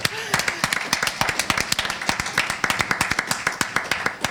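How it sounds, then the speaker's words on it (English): A small panel audience claps in sharp, closely spaced individual claps that come in uneven bursts for a few seconds, heard up close with no voices over them. "yep, clap for it."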